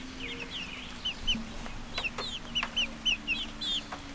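Chicks and chickens clucking outdoors, with short high peeps and clucks repeating in loose bursts over a low steady background hum.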